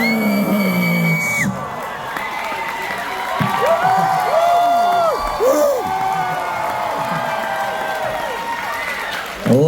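A fan convention crowd cheers, whoops and applauds loudly and steadily for actor Skeet Ulrich at an evening celebrity event at Fan Expo Canada, with shouting voices rising over the roar.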